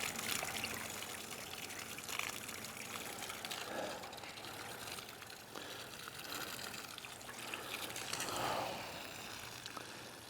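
Water pours and trickles steadily as salt is rinsed off a pair of glasses outdoors by a garden sprinkler setup, a continuous splashing wash with a couple of brief louder gushes.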